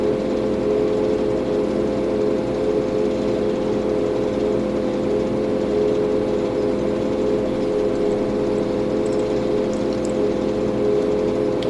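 A tractor engine in Farming Simulator 2013 drones at a steady idle, a continuous even motor hum with a fixed tonal buzz and no change in pitch throughout.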